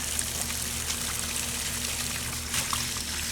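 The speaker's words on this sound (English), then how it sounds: "I put a little cement in, and I add some water" Water poured into a bucket of cement mix for setting a wood fence post, a soft continuous trickling pour, faint and close, with no talk.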